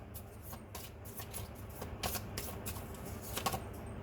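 Playing cards are drawn and shuffled during a card reading, giving soft, quick papery flicks and riffles that come in small bursts, faint and close in a quiet room.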